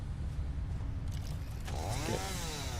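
A chainsaw in the video game Satisfactory gives a steady, droning mechanical buzz, and midway a sweeping tone rises and falls over it.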